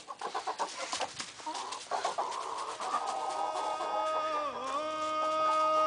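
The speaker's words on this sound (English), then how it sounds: "Chicken keep away." Chickens clucking and squawking in a burst of excited calls, then a steady tonal hum with a sliding pitch takes over toward the end; close and fairly loud, no talk.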